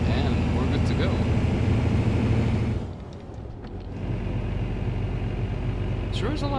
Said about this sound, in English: Sure is a loud truck, not for nothing.